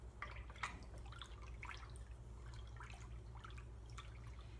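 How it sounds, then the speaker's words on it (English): Faint soft scraping and dabbing of a spoon stirring a homemade violet and chickweed salve, small irregular wet clicks over a low steady background hum. "Just keep mixing."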